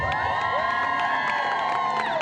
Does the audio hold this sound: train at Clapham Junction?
no